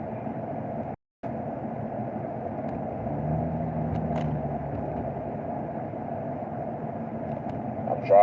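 Interior of a moving car, a steady low road and engine rumble running continuously with faint faraway noises over it.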